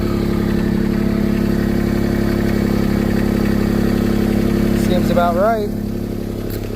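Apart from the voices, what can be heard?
machine engine idling before being shut off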